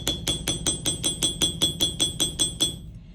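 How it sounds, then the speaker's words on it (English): A riveting hammer strikes a piece of metal being textured, about a dozen sharp ringing blows at a steady quick rhythm, close and moderately loud, then stops. "This is a riveting hammer."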